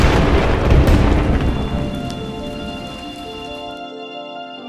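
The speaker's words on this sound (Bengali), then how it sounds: "নামতেই এমন বালু ঝড় আর বৃষ্টি শুরু হলো" Rain and a blowing sandstorm at Sabrang near Cox's Bazar, heard as a loud, dense wash of rain and wind roar that eases gradually, with faint steady tones underneath and no talk.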